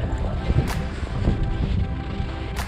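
Wind gusting steadily across a frozen lake on a cold day of ice fishing, a continuous broadband rush with a couple of brief sharper bursts, close and fairly loud with no talk.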